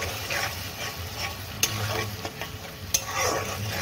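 Spice masala fries with yogurt in a pan, a steady sizzle under close scraping stirs, with a couple of sharp clinks of the utensil against the pan.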